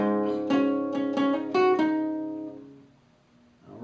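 Guitar playing the third section of a riff: a run of about seven picked notes in a brisk pattern, then a long ringing note that fades out before a faint noise at the end, heard solo and close.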